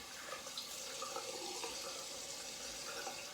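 Water runs from a tap into a sink as a face is rinsed after a shave, a steady, soft splashing rush that stays even throughout with no speech.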